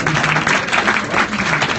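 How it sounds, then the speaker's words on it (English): Conference attendees give the actors a brief round of applause after a geriatric simulation scenario, a short burst of steady, fairly close clapping from a modest audience. "So you're entitled to give the actors a little round of applause"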